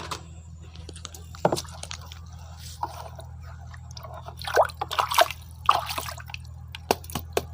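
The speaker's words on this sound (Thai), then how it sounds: "เดี๋ยวเราก็ไปเทลงในกระมังที่เตรียมน้ำเอาไว้เลยนะคะ" Freshly hatched baby snails mixed with bits of eggshell are tipped into a basin of water, giving quiet, scattered wet squishes and drips over a low steady hum.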